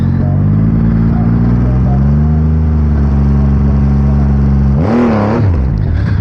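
Triumph Rocket 3 motorcycle launching at a dragstrip at night: a loud, steady engine drone with strong harmonics that briefly dips and then surges sharply as the throttle opens, close up, with no talking.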